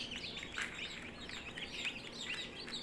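Healthy WPC1 chicken chicks from an October breeding-season hatch, chirping in soft, repeated high peeps over a steady low background hum, faint and somewhat distant.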